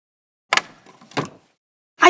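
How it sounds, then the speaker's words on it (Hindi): A house door being opened: three sharp, short clatters of latch and handle separated by brief gaps, loud and close in an otherwise quiet room. "आई अभी खोलती हूँ दरवाजा।"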